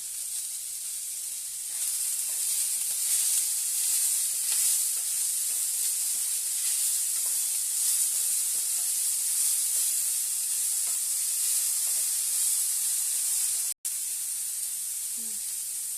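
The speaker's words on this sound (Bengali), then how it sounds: "হালকা ভাজতে ভাজতে আমি এর মধ্যে একটু নুন দেব। নুন দিয়ে এটাকে ভাজতে থাকবো।" Food sizzles in a pan with a little salt added, a continuous bright hiss running the whole time that cuts out only for a split second near the end.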